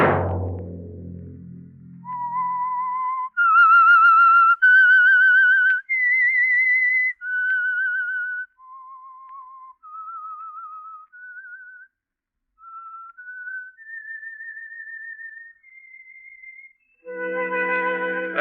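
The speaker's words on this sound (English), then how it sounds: "Let that whistle be your signal for the Signal Oil program" A lone whistler performs the slow melodic theme of the 1947 radio drama The Whistler, clear sustained notes rising and falling, with a soft orchestral chord at the start and end.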